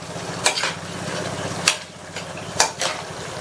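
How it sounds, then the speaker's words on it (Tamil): Okra and tomato curry stirred in a pan over a soft steady sizzle, with three sharp clanks of the spoon against the pan at roughly one-second intervals. "சேர்த்துட்டு நல்லா கலந்து கொடுத்துடலாம்"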